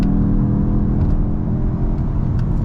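A 2022 Volkswagen MK8 GTI S accelerates hard from a launch, its engine a loud, steady rumbling drone heard from inside the cabin, with no talking over it.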